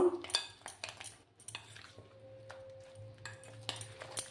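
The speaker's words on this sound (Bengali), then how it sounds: "বেসনটা দিয়ে ভালো করে এটাকে মিক্স করে নেব।" A utensil clinks and scrapes against a bowl while egg and onion are mixed with gram flour, giving irregular light taps and knocks, close and fairly quiet, with short gaps between strokes.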